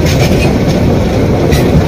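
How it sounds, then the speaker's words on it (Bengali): A train roars past close by as it enters the Jamuna Bridge over the river, its wheels clattering in a loud, continuous rumble. "এই যে যমুনা সেতুতে এখন ইন করবে ট্রেন"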